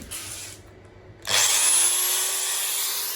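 A power drill running off a lithium battery inverter sits quiet at first, then whirs up sharply to a steady high-pitched spin that runs on continuously, close by and loud.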